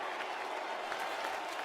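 Crowd cheering and clapping at a ceremony in the video game Metaphor ReFantazio, a faint, steady wash of applause and cheers throughout, with no talking over it.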